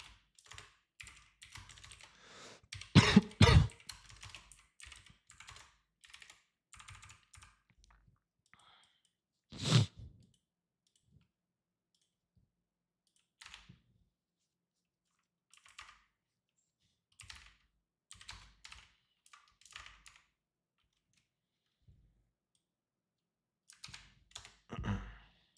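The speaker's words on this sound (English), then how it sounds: "Let me type this up, just in case." Keys patter on a computer keyboard during a futures day-trading session, with sparse, irregular bursts of close keystrokes, a few louder thumps and long quiet gaps.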